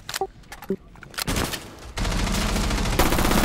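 A Desert Eagle pistol fired in a rapid spray during a tactical shooter match, a few scattered shots and game blips at first, then a dense, loud, continuous volley of close gunfire.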